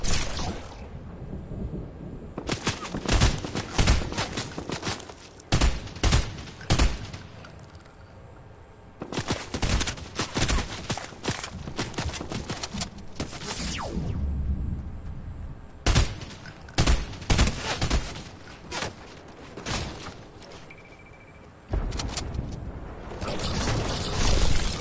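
Gunfire in a PS4 shooter game comes in repeated loud bursts of rapid shots with short quieter gaps between them, spread across the whole stretch.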